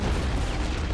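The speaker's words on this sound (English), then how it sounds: "Big explosion killing several Soviet soldiers." A big battlefield explosion in the WWII strategy game Men of War: Assault Squad 2 roars as a dense, loud, sustained blast that fills the whole second.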